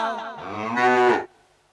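A water buffalo lows once in a long, drawn-out moo that rises in pitch and strength before cutting off abruptly, close and loud, followed by near silence.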